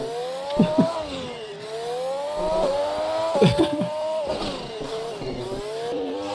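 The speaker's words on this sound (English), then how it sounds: "These cars sound so much better at that speed." Race car engines in a DTM esports race at Zandvoort scream and rise and fall in pitch as they shift gears, with brief tire squeals, loud and continuous like a racing game.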